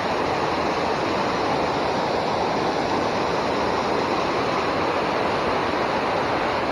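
Steady roaring rush of a waterfall at the base of a small river, dense and loud, filling the whole clip without pause and with no voices.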